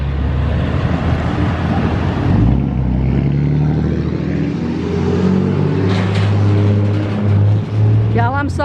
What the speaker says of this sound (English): There's so many trucks going through here.